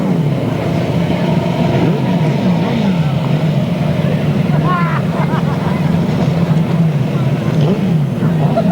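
A grasstrack sidecar racing engine droning steadily and loudly throughout, a continuous mechanical roar at a 1992 meeting, with a commentator's voice partly over it.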